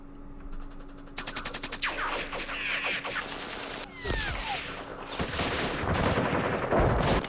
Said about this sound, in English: I'm going to utilize my machine guns, long range.